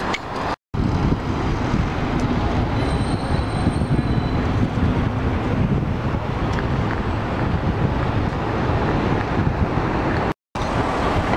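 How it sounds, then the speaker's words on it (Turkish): A loud, steady rumble of a tram climbing a hilly street in Lisbon, with rattling and wind buffeting over it, briefly cutting out twice. "Portekiz çok yokuşlu olduğu için bu şekilde tramvaylar var yukarı çıkmak için."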